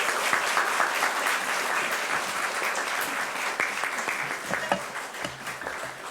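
A church congregation applauds during a Sunday worship service to welcome a guest pastor, with full, steady clapping filling the sanctuary and a few louder claps standing out near the end.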